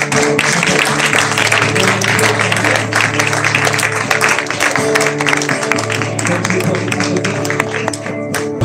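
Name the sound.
congregation applause in church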